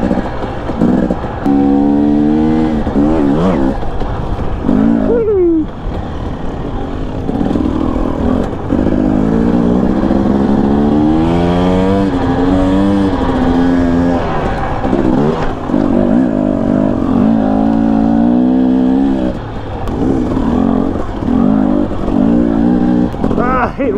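A 2019 Husqvarna TE250i two-stroke dirt bike being ridden on a Colorado trail, its engine buzzing and revving steadily with rising and falling pitch, loud and close for the whole stretch, with a voice briefly talking over it.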